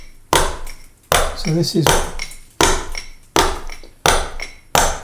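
A mallet dropped repeatedly onto a wood chisel held on a workpiece, giving five sharp woody knocks at a steady pace, each with a short ringing tail, close and loud, with someone speaking briefly between strikes.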